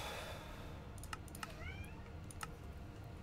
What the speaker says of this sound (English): Yes, I understand you are a cat.